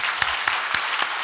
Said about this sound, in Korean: 다시 한번 크게 박수 한번 드리고